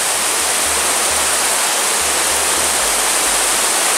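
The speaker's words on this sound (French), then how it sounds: "jusqu'au rocher des druides, c'est rempli de cascades" Waterfalls cascade along the trail to the Rocher des Druides, a dense, steady roar of rushing water that stays loud and constant throughout with no voices.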